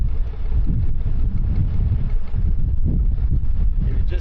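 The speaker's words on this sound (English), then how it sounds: "The wind's coming across this way." Strong wind buffets a canal boat on the Oxford Canal, a loud, continuous rumbling roar of gusts hitting the microphone with no pause throughout.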